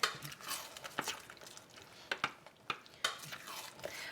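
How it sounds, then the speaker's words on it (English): A spoon stirs peaches with cinnamon in a pot on a stovetop burner, giving soft scraping strokes and several sharp clinks against the pot, quiet and close, with no talk. "I'm going to turn the burner off and just stir that a little bit more"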